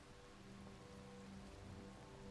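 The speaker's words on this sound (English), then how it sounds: "It's raining." Steady rain falls in the video game The Magical Mixture Mill, a continuous soft hiss of drops on surfaces that carries on evenly throughout at low level, with no voices over it.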